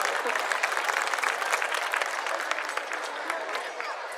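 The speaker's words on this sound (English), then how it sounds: "Let's hear an appreciative applause for the teachers first of all." A school audience applauds its teachers at an annual school celebration, a dense, steady roar of many hands clapping that carries evenly throughout and eases slightly toward the end.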